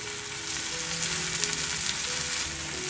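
Oil poured into the middle of a corn and wheat flour flatbread crackles in a hot pan, a continuous dense sizzle, close and steady, with no talking.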